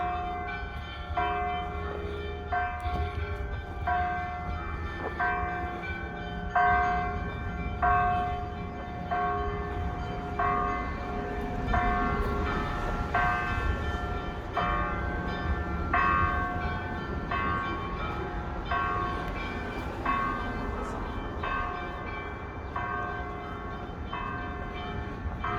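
Church bells ring out in a steady, repeating peal, the strikes evenly spaced and overlapping with a rich ringing tone that carries on for the whole stretch with no voices.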